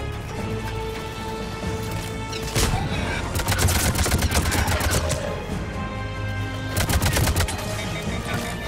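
Gunfire in Mass Effect 3 rattles in rapid automatic bursts, loud and close, with two dense clusters of shots over a background of combat noise and game music.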